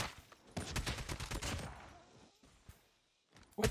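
Rapid gunfire bursts from COD Mobile in a Hardpoint match, loud dense volleys over the first second and a half fading into quieter scattered shots, a brief pause, then a sharp final burst.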